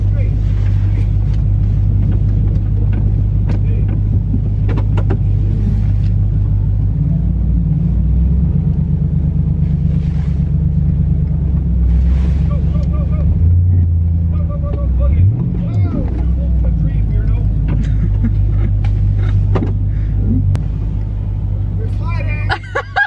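A truck rumbles along a snowy road and slides, its low engine drone steady throughout while people talk inside the cab.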